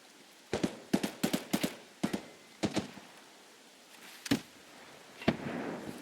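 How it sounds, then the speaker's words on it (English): Gunfire in Escape from Tarkov: a quick series of sharp distant shots in bursts, then a few isolated cracks spaced apart, fairly faint over low ambient noise. "what were all those gunshots at the end?"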